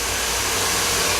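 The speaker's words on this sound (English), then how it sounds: "feel free to use your cold shot from your blow dryer" A blow dryer blows on hair during a salon blowout with a steady, loud, close whoosh of rushing air and a low motor hum. The sound runs continuously throughout with no talking.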